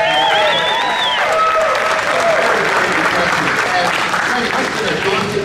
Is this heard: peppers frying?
no